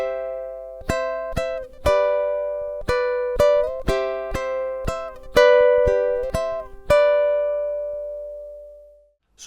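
Solo ukulele plays two measures of a song in a steady series of crisp strummed chords, each ringing out, the final chord left to decay into silence.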